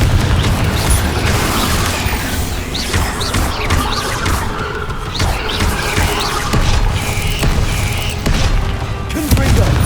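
Confringo blasting spells in Hogwarts Legacy explode in a string of booming, crackling blasts amid the steady din of a fight, several hits landing within a few seconds.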